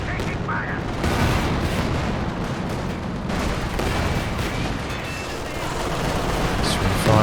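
Katyusha rocket artillery barrage in the World War II strategy game Company of Heroes 2, a dense, continuous roar of explosions and gunfire in a 2v2 battle, loud throughout with a voice talking over it.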